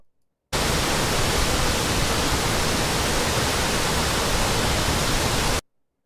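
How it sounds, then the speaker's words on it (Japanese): A recorded waterfall in Fukushima with a drop of about 48 metres gives a loud, steady roar of broadband noise that starts and stops abruptly, with no voices over it. "で滝の音ですけども"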